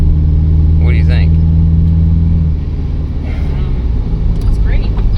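An old, cheap pickup truck's engine revs through its exhaust close by, a couple of throaty rises and falls, with people talking over it.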